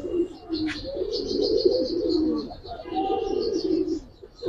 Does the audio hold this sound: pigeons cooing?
yes